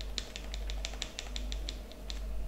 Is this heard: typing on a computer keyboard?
yes